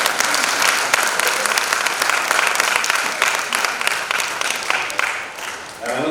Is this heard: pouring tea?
no